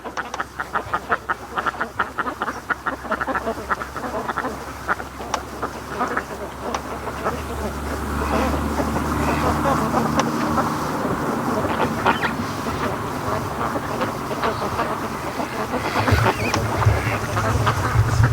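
Free range ducks on a lake fed by a creek quack in a loose chorus, moderately close, with a continuous low rumble of water or wind below and a faint murmur of people in the background.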